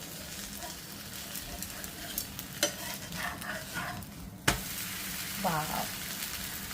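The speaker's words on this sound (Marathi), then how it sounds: "छान असा खरपूस भाजू दे" Chila thalipith, a flatbread, sizzling steadily in a pan as it browns, with soft scraping and clinking of a utensil and a brief exclamation from a woman.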